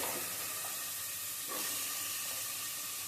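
Chopped tomato frying for baby food gives a soft, steady sizzling hiss from a pan, faint and even throughout.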